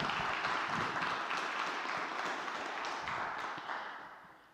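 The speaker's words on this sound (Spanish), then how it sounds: "Un aplauso, por favor." A lecture audience at a law faculty conference on artificial intelligence in criminal law applauds, giving a dense, sustained wash of clapping that fades gradually toward the end.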